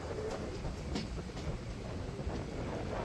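Steady low rumble of a train on the Madurai–Sengottai–Punalur–Kollam route, pulling out toward Punalur railway station, rolling along the rails, continuous and fairly close, with no voices.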